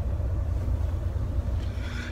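A car's engine pulls up close by, a steady low rumble holding at an even level throughout with no talking over it.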